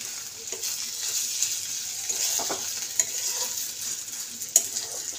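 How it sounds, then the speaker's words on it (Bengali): Ginger paste fries in a pan with a soft, continuous hiss, punctuated by occasional light clicks and scrapes of a spoon stirring, quiet and close. "এইবারে আদা বাটা দিয়ে দেবো। আদা একটু ভাজা হোক"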